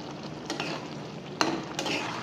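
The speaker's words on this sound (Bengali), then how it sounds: "টমেটো সস দিয়ে আর একটু জ্বালিয়ে নেব।" Paneer chilli in tomato sauce frying in a pan, giving a steady close sizzle with occasional scrapes and stirring knocks against the pan.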